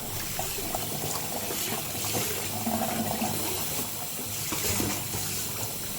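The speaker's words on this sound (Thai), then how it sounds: "นำฟักทองมาล้างน้ำให้สะอาดครับ" Pumpkin is rinsed under running water from a tap, giving a steady, close splashing and trickling wash with small bursts of sloshing as it is handled, alone without talk.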